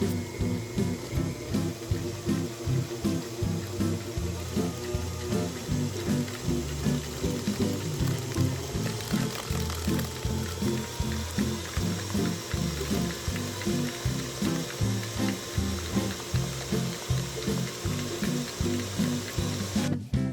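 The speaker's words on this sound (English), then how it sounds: "I will whisk this about for 6 minutes until the cream is all nicely and airy and fluffy." An electric mixer whisks cream cheese topping for a pumpkin cake in a bowl, a steady rhythmic whirring and beating that runs without pause for about twenty seconds, close and moderately loud.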